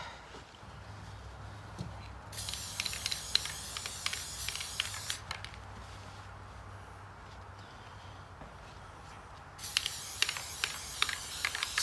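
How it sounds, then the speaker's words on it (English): Two bursts of aerosol spraying, a long hissing spray followed by a shorter one near the end, with faint clicks and rattles between. "I'm gonna go ahead and make sure I spray that."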